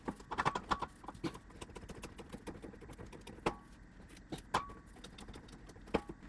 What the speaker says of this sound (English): So now let's go back on the English wheel and continue stretching this part